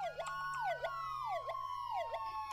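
A wailing ambulance siren sweeping up and down in quick repeated cycles at a car accident scene, loud and close, with no talking.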